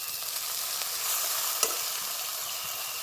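Chopped onion frying in a pan with a ground paste of ginger, garlic and green chilli added, a steady close sizzle and crackle of hot oil with a faint stir or tap.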